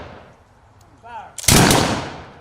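A single rifle volley fired by a ceremonial squad, one loud close crack with a trailing echo, preceded by a brief shouted command.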